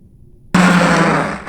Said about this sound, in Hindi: हम हैंड ब्लेंडर को फिर दोबारा चलाएंगे।